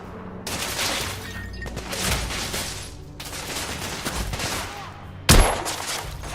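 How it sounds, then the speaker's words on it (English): Sustained suppressing gunfire in The Order: 1886, dense overlapping volleys rattling continuously for several seconds, broken by brief lulls, ending with one louder, sharper shot near the close. "I'm taking suppressing fire!"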